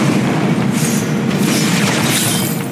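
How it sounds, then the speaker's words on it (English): A turret is destroyed in the Mobile Legends video game, producing a loud, dense crashing boom that fills the whole moment and tails off slightly at the end. "Your team destroyed a turret."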